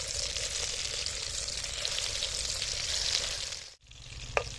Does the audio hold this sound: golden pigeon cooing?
no